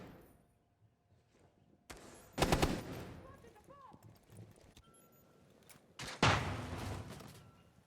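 Exchanges of gunfire in a competitive Rainbow Six Siege match, with two loud bursts several seconds apart and lighter clatter between them, heard beneath a commentator speaking.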